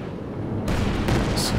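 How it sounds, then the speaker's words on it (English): Stuka rocket artillery barrage in Company of Heroes 2, a deep rumbling blast that bursts in partway through with crackling impacts and a sharp hiss near the end, loud and close. "Stuka barrage"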